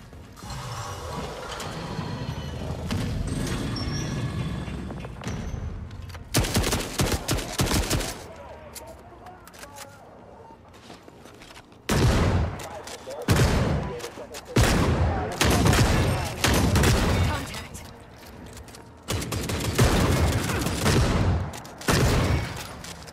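Bursts of gunfire and heavy weapon fire in the video game The Forever Winter, coming in repeated loud volleys with short gaps between them, layered over mechanical clanking and a steady background rumble.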